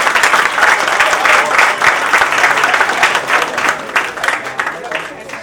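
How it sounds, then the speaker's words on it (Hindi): Sustained, loud applause from the audience at a Hindi comedy poetry gathering, with dense, steady clapping that continues throughout. "आप जोरदार तालियां बजा करके"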